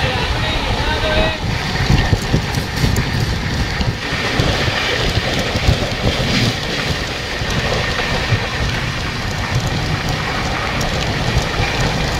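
Train rolling along rails, a continuous loud rumble and clatter with steady wheel noise from inside the carriage, while people talk over it.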